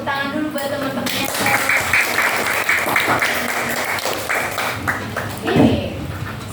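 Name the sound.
classroom students clapping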